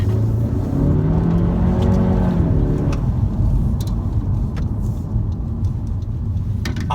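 A 2017 Honda Civic Hatchback being driven, with a steady, loud engine and road rumble from inside the cabin and a brief rising rev in the first few seconds, no talking.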